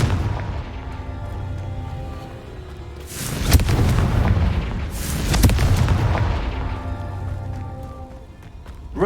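A Confringo spell explodes in the Hogwarts Legacy video game, with two heavy, booming blasts a couple of seconds apart, each followed by a rumbling tail, over a constant low background rumble.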